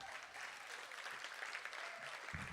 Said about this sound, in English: I think everyone here needs to give you another big clap for that talk